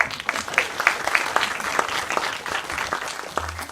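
Steady applause from a crowd at a talk, dense clapping that holds evenly throughout with no voices on top.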